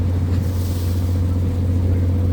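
A car boards a ship, and its low engine rumble holds steady and fairly loud against a constant hum, with no break and no talk.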